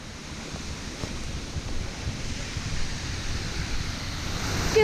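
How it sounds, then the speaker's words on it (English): Gill Beck waterfall, also called Derrydiddle Weir, pours steadily as a broad, constant rush of water, heard from nearby with some wind noise and no voices. "I think I can hear water."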